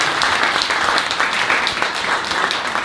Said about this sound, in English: one round of applause for Lindsay.